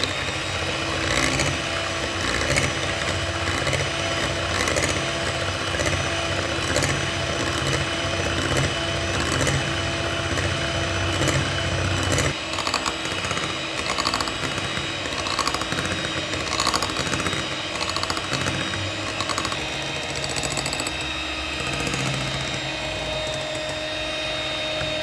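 An electric mixer beats brownie batter at high speed with a steady, loud motor whir and rattle that runs unbroken for the whole span. The tone shifts slightly about halfway through. No one speaks.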